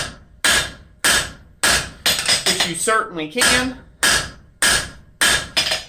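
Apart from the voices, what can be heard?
hammering copper by hand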